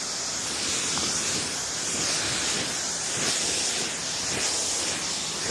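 Water from a hose rinses down the back of a horse trailer outdoors, a constant close hiss and splash that holds steady for several seconds with no speech.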